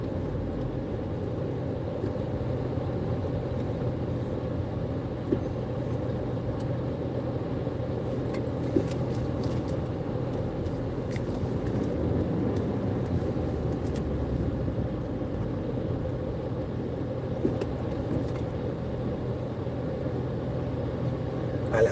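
Steady road drone from a car driving along, a continuous low rumble of engine and tires that stays even throughout, with faint faraway clicks and no speech.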